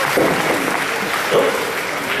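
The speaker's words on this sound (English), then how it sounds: "let's have a round of applause for all of our volunteers!" Anime convention audience applauding the volunteers between shows, a continuous, fairly loud wash of clapping from a large crowd with faint voices and cheers mixed in.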